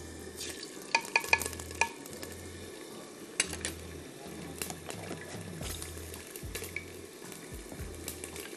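Marinated chicken fries in a handi pot with ginger-garlic paste, giving a soft, steady sizzle. Stirring clinks and scrapes against the pot come through, along with low thumps, and there is no talk.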